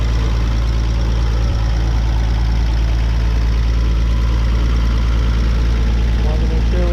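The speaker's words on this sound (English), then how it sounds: "Engine is a flathead 6, as we mentioned. Runs nice and quiet" A 1954 Kaiser Manhattan's flathead six engine idles steadily with a low, even rumble and a faint mechanical tick, close by and unchanging throughout.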